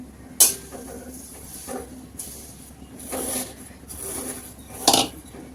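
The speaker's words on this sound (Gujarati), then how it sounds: "એટલે આપણે હલાવવાનું જ્યાં સુધી થોડુંક બ્રાઉન કે એવી ના થાય ત્યાં સુધી આપણે હલાવવાની છે" Sev vermicelli being stirred in ghee in a pan, with a few scraping clinks of a spoon against the metal spaced out over several seconds, near and moderately loud, with no talking.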